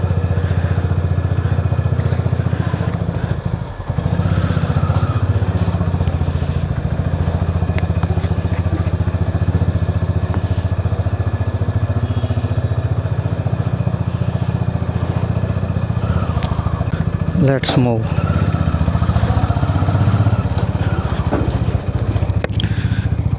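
A Honda Highness CB 350 motorcycle rides along a road, its steady low engine drone and road rumble running throughout, with some clattering and a short burst of scraping; someone speaks briefly near the start.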